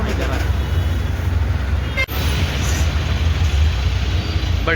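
Road traffic idling and moving at a signal in Solapur makes a steady, loud low rumble of engines that runs without a break, with one brief dip partway through.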